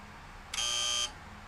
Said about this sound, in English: When you hear the buzzer, move to the right.